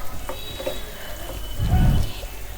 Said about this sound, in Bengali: মশলাটাকে ভালোভাবে ভেজে নেব